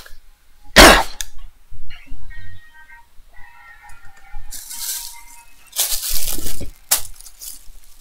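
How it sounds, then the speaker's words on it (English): A person coughs harshly and spits up mucus during a video game session, with one loud hack followed by throat clearing and wet, rough bursts, plus faint clinks in between. "I had to spit up a little mucus."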